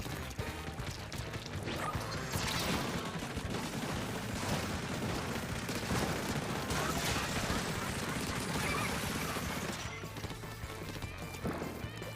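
Ink weapons firing in a Splatoon 3 Turf War match, a steady stream of rapid, wet squelching shots packed into dense, busy game sound that runs without a break for the whole stretch.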